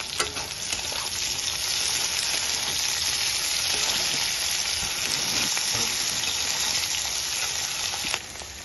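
Onion frying with half-boiled potatoes in a pan gives a steady, dense sizzle that holds evenly throughout with no talk.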